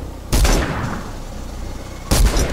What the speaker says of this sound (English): Compact SMG.